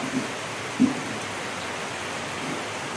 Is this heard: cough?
no